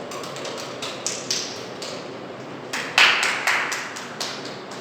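A congregation at a Sunday church service claps to welcome the pastor, light scattered claps and taps that come in uneven bursts, a few sharp louder hits near the middle.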